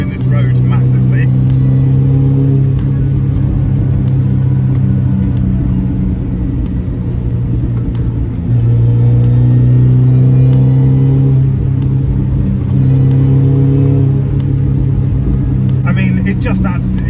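A Mini Cooper S R53 car engine hums steadily at low pitch, rising and falling in revs as it drives along a country B-road with traction control off, loud and close throughout with no talking.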